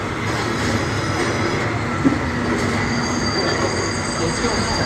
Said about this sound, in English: Then you cut to the subway train coming into the station right there.